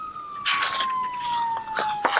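A fire engine siren sounds as a steady wailing tone that slowly falls in pitch, with bursts of broadband noise over it, loud and close.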